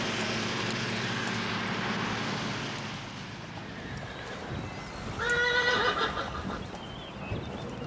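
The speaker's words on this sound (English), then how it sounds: "He heads across town to Foxtail Stables, where Diana keeps her horse." A horse at Foxtail Stables gives a loud whinny in the second half, after a low droning hum and some hoof clopping; no one speaks.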